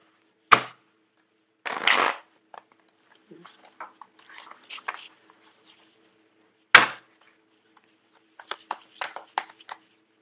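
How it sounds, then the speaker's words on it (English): Tarot cards from the Tarot Mucha deck being shuffled and pulled out, with short, crisp riffles and slaps separated by quiet pauses and a few soft card sounds, close and fairly faint. "I'm going to pull out 5 cards"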